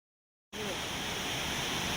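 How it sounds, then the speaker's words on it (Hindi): Artificial waterfall at Singapore Zoo, a steady broad roar of falling water that starts abruptly after a brief silence and holds constant and loud. "शोर इतना हो रहा था उसके आसपास पानी के गिरने का, आप सुन ही सकते हैं बैकग्राउंड।"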